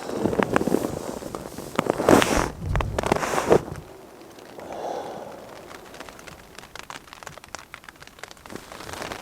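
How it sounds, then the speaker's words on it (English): Rain patters on a tent in a forest during a solo bike tour across Montana, a soft continuous spatter, opening with a few seconds of louder rustling and handling noise up close. "It's still raining."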